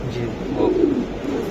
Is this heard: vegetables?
no